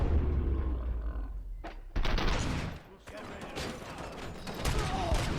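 Gunfire in the shooter game RoboCop Rogue City, with heavy bursts and rapid volleys crashing in after a brief lull, loud and dense, and a mechanical roar underneath.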